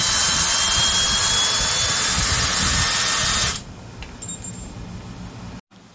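A Vevor two-speed brushless 3/8-inch right angle drill runs steadily in first gear with a loud, high whine for several seconds, then cuts off abruptly and leaves faint clicks and a short quiet stretch.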